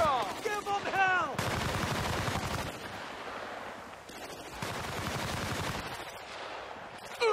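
Loud machine gun fire rattles in rapid sustained bursts during a Battlefield: Bad Company battle, with a voice shouting briefly at the start before the heavy, continuous gunfire takes over.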